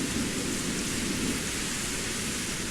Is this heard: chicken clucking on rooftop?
no